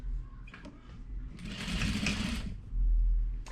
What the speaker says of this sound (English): And then again we'll do a little back stitch